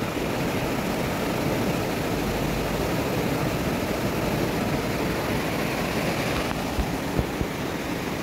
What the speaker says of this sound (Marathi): पाणी वाहत आहे. एकदम फेसाळलेलं पाणी आहे.